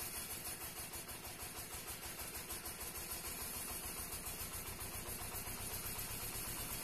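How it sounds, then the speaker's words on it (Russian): A steady engine-driven potato digger, a sieve-type factory model, runs smoothly with a rapid even pulsing chug and no vibration. It is loud and continuous throughout, with nobody talking. "Копалочка идет ровненько, без вибраций,"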